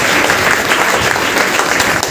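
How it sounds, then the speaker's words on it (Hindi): Loud, steady applause from a crowd at a village meeting, many hands clapping together in a continuous dense roar. "हमारे परम पूज्यनीय मिस्टर रामाशीष गुप्ता जी के लिए एक जोरदार ताली"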